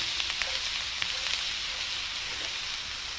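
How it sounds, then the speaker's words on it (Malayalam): Finely minced garlic sautés in butter in a pan for butter garlic chicken, giving a steady close hiss of sizzling with faint crackles throughout. "2 കുടം വെളുത്തുള്ളി പൊടിയായി അരിഞ്ഞത് ഇതിനകത്തേക്ക് ചേർത്ത് കൊടുക്കാം. നന്നായിട്ടൊന്ന് വഴറ്റി കൊടുക്കാം."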